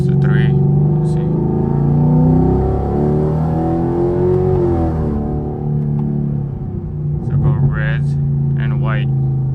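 A 2016+ Chevrolet Camaro engine revs and holds a steady drone, then drops off midway before building again, with a person talking over parts of it.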